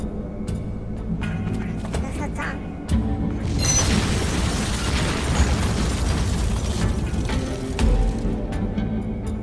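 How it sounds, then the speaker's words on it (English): A bomb blows up a building in the Van Helsing video game, with a loud, sustained rumbling explosion that swells after a few seconds and keeps crackling and booming, with a further burst near the end. "You want to make that building go boom, yes?"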